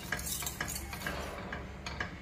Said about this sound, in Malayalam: ഇനി ഇത് നല്ലതുപോലെ ഒന്ന് ഇളക്കി യോജിപ്പിക്കുക.